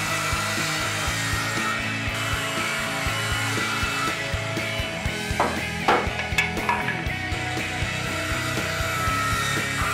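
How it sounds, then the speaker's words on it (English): A circular saw cuts square wood boards for a wine rack base and tower, a steady whining buzz with rhythmic low thumps and a few sharper bursts midway, close and continuous throughout. "Now using a circular saw, make sure that your base and your wind tower are both cut square."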